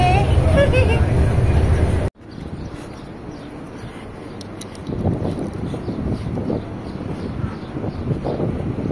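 Interior rumble of a moving bus, with steady low engine and road noise and wind buffeting after an abrupt cut, under scattered passenger chatter and someone talking nearby.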